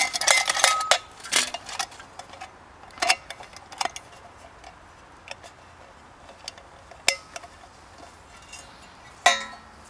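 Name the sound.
canteen cup and camp stove setup being handled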